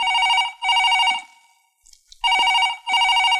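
A telephone rings in two loud electronic bursts, a short quiet gap, then two more, in an indoor scene from a Malayalam film, with no talking over it.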